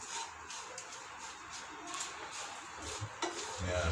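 Dragon beef frying in a pan and being stirred, with a steady sizzle and scraping, clattering utensil sounds running throughout, a few louder knocks near the end.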